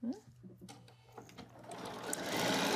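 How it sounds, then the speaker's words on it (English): A sewing machine with a quarter-inch guide foot stitches fabric along a marked line, whirring into a fast, steady buzz that builds toward the end, after a quieter start with brief mechanical taps; a voice speaks early on. "we're going to go ahead and take that to the sewing machine, and we're going to sew on both sides of that marked line"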